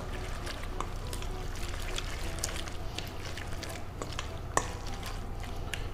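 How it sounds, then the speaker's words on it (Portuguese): Pasta being stirred in a pesto and cheese sauce with a toothed plastic utensil, a steady wet sloshing and soft scraping with small clicks over a constant low hum of kitchen noise. "Como eu estou mexendo com esse utensílio de plástico e com dente, eu não quebro a minha massa."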